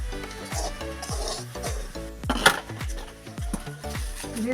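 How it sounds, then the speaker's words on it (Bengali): Cooked greens scraped and tipped from a pan into a metal serving bowl, a run of rhythmic metallic clinks and scrapes from a spatula, close and fairly loud. "শাকটা আমি জামবাটির মধ্যে ঢেলে নিচ্ছি"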